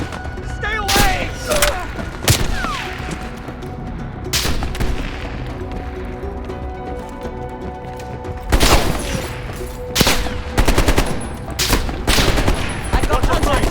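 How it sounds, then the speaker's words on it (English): Gunfire in Call of Duty Black Ops Cold War: loud, scattered shots and bursts with heavy booming hits, set over a steady droning battle ambience and tonal effects. "They're shooting at us!"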